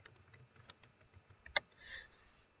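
Soft keystrokes on a computer keyboard tap out a short, irregular run, quiet and close, with one sharper click near the end and no voices.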